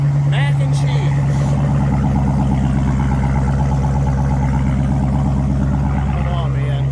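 A Chevrolet Bison truck with a custom exhaust idles nearby, a steady low burbling engine drone running throughout, with a person talking over it.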